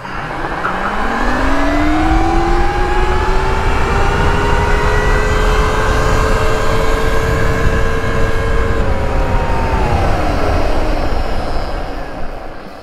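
Two Mazda MX-5s of equal weight, one upgraded and one stock, launch side by side in a drag race; loud engine drone climbs steadily in pitch as they accelerate, holding a sustained high whine before easing off near the end.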